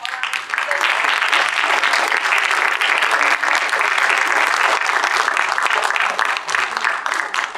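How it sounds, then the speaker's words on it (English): Sustained audience applause at a youth entrepreneurship competition, loud and steady for the whole stretch with dense clapping and no break. "let's give one last round of applause to all our"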